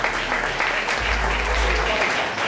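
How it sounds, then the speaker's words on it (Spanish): Steady applause from a crowd, dense clapping that swells slightly midway and carries on continuously. "Aplausos, por favor."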